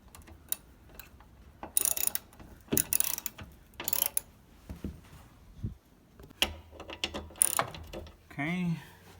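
Spare tire carrier bolts on a Jeep TJ tailgate are turned by hand with a ratchet, giving bursts of quick clicking and metallic mechanism sounds at close range, separated by brief pauses and small clanks.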